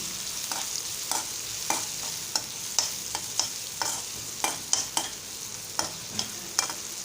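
Chopped onion fries in a pan for Marathi fodnicha bhat, a soft continuous sizzle punctuated by regular scraping taps of a spoon stirring, quiet and close with no talking.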